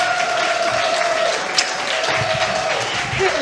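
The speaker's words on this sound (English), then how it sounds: "Let's give her a big round of applause." An audience at a Marcus Garvey celebration applauds a keynote guest speaker, a continuous wash of clapping and crowd noise under a sustained tone, with a brief louder burst midway.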